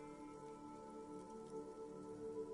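Rain drips off Eternite-covered roofs on an urban coastline in the video game Disco Elysium, a faint, soft patter of scattered drops over a low steady hum.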